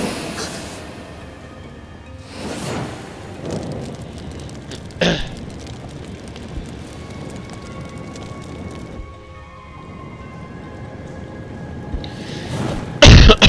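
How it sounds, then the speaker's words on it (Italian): Several separate coughs break out at intervals over a low background hum, close and fairly loud, the last a harsh burst at the end. "io ho un po' di tosse"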